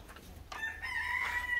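A rooster crows in a chicken coop, one steady drawn-out call rising after a half-second of quiet yard noise and holding strong to the end, close and fairly loud.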